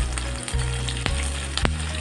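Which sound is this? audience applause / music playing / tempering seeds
tempering seeds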